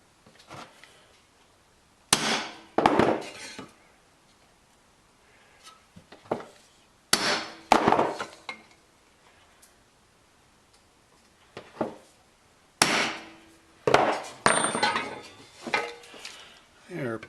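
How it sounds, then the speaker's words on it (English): Sharp metallic hammer strikes drive a punch through a bed-liner-coated metal panel, coming in clustered bursts of several hits separated by quiet pauses, close and loud. "Here, punch some holes through it."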